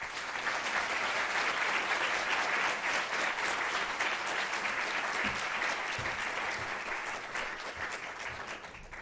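Sustained audience applause fills a hall as a forum speaker on race and class in higher education is welcomed to the stage, a dense, steady clapping that holds strong before easing slightly toward the end.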